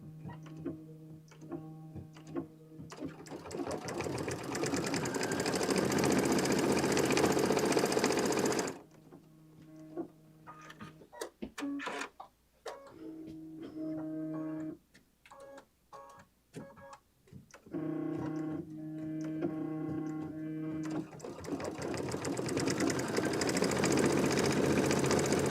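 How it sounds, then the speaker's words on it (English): A sewing machine runs in bursts, sewing blanket stitches: a long fast whirring run, then a stretch of short stop-start stitching, then another sustained run at the end. "Okay, and we're done stitching."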